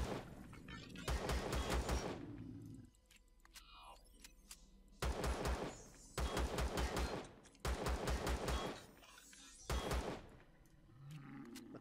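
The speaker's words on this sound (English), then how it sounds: "Like I'm shooting past him too." Bursts of automatic gunfire in the space survival game Empyrion Galactic Survival, four or five loud rapid volleys separated by short quieter gaps with faint game sounds between them.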